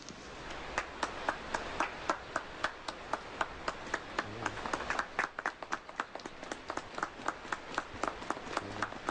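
Guests at a wedding ceremony clapping after the couple is pronounced husband and wife, a small group's crisp, uneven claps repeating steadily, moderately loud.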